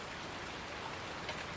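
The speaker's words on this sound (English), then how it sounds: "It's raining a lot." Heavy rain falls steadily in rural Griffin, Indiana, a dense unbroken hiss of drops pattering on surfaces, loud and even throughout with no voices.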